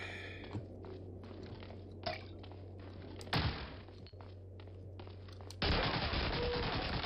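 Shots ring out in Medal of Honor: Allied Assault, scattered single gunshots with sharp cracks, one heavier burst mid-way, then a sustained loud rush of noise toward the end, with a steady low hum throughout.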